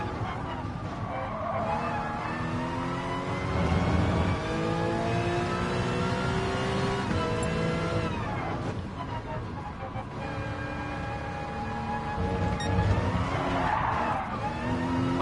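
A GT4 race car lapping Brands Hatch, its engine loud and close as revs climb and fall through the gears in continuous sweeps, with tyre noise mixed in.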